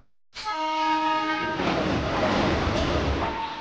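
A train horn sounds loudly after a brief silence, holding a steady harmonic blare for about a second before giving way to the rushing roar and rattle of the passing train, close and continuous.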